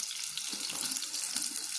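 Soya chunks rinsed under running tap water in a home kitchen, a quiet, steady hissing stream of water with no voices.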